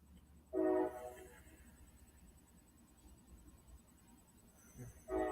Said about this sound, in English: you can hear that train in my background